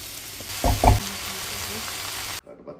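Ivy gourd leaves and vegetables fry in a pan in a Sri Lankan kitchen, giving a steady hiss broken by a couple of stirring knocks before the sound cuts off abruptly near the end.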